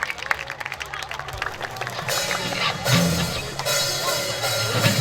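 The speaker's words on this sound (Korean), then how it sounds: "여러분 뜨거운 박수를 부탁드리겠습니다" Applause and crowd noise swell from a busy, noisy room at a youth club festival stage, building louder midway and holding steady to the end.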